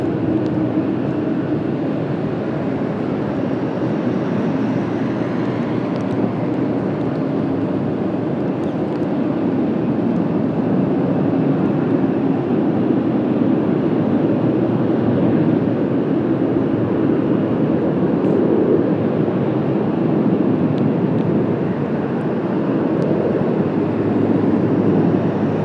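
An Air Premia Boeing 787 Dreamliner departs Washington Dulles on a cloudy day, its steady, broad engine roar holding loud and unbroken at a moderate distance.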